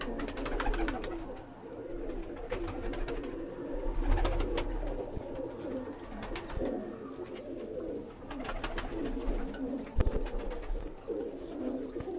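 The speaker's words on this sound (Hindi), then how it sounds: "काले मुंह वाला कबूतर है" Black-faced pigeons coo on a rooftop loft, soft repeated low coos with occasional wing flutters and light clicks, fairly faint and steady throughout with no talk.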